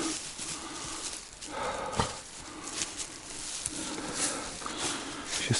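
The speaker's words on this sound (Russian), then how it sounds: "Собака" A dog is close by outdoors in the taiga during an autumn hunting trip, its short sounds mixed with rustling, footsteps and steady background noise.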